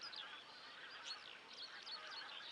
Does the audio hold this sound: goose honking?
yes